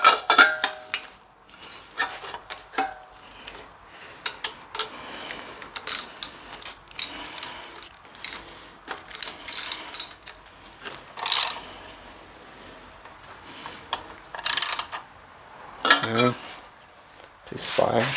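A ratchet wrench clicks in short bursts while tightening a bolt during engine assembly, with intermittent metallic tool clatter nearby, close and fairly quiet.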